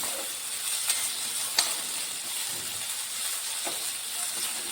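Cabbage, carrot and onion sautéing in oil in a pan, a soft steady sizzle with a couple of brief clicks of a utensil against the pan.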